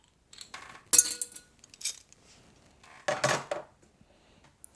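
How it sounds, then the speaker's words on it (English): Bière de Noël Christmas beer from Brasserie Burgonde is poured slowly into a tasting glass, with a few light glassy clinks and short bursts of pouring and fizz. The sounds are fairly quiet and close, with short silences between them and no speech. "even though I am pouring very, very, very carefully, very slowly, I can't help but get a huge head of foam."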